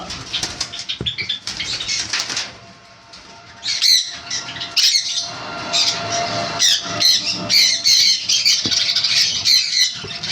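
DNA-sexed semi-adult sun conure parrots squawking loudly and repeatedly in harsh bursts, with fluttering wings and chirps in between, close by with no talk.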